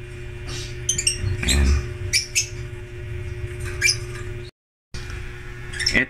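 A pet bird kept for breeding with a new pair chirps in short, bright bursts, close and fairly loud, with brief pauses between calls over a low indoor hum.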